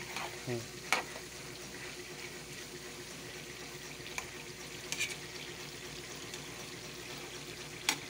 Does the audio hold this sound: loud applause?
no